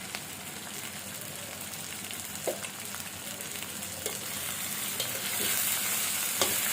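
Turmeric, salt and chili powder frying in a pan, with a steady soft sizzle and occasional light scrapes of stirring, fairly quiet and without talk.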